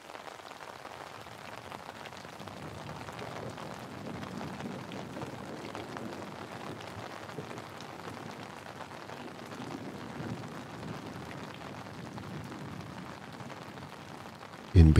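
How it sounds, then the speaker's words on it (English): Steady rain falls on a train station platform, a soft, even wash of countless drops hitting wet ground, continuous and fairly quiet for the whole stretch with no voices. "It's raining. The ground has a sheen, a veneer of a million raindrops."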